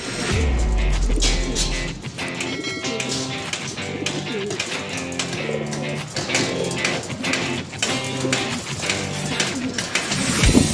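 Pigeons cooing in a loft of prized racing birds, low soft coos repeating throughout over a steady busy background, with some faint voices.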